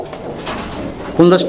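Native Gola pigeons coo in a collection, with a clear, close coo rising near the end over a background of murmuring voices.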